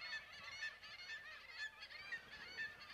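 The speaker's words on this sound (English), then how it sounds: "In a flock, they communicate with harsh squawks and body movements." A flock of seagulls squawks in harsh, overlapping honking calls, continuous and fairly faint throughout, with no other sounds.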